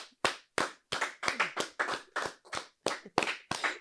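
Hands clap in a brisk, slightly uneven rhythm, about a dozen sharp claps close by with no voices.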